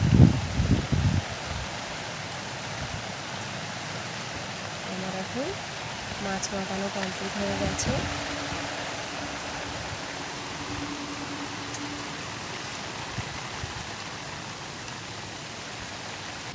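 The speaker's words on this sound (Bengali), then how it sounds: "বৃষ্টি এসে গেল আবার, প্রচুর জোরে বৃষ্টি এসছে।" Heavy rain falls in a constant, moderate wash of noise at the onset of the monsoon, while a person speaks briefly at the start over a few close kitchen clatters.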